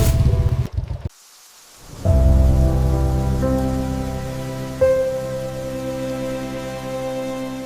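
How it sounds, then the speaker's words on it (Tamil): Steady rain falls on a deserted rural road lined with trees and wet earth, a dense continuous hiss with a low rumble beneath, briefly cut to near silence before resuming loud and unbroken with a faint tonal hum. "மழை மட்டும் சாட்சியாக இருந்தது"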